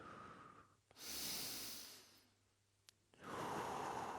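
Deep, audible breaths during a core workout: a long, loud exhale, a quieter pause, then another strong breath, close up with no talking.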